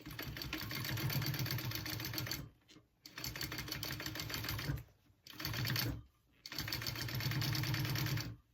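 A sewing machine top stitches a leather tote bag in four steady runs of close, even whirring, each broken by a brief pause, with no talking.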